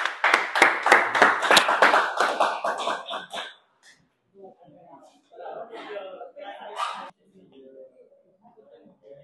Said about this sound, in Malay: Okey, tepukan untuk kumpulan 3.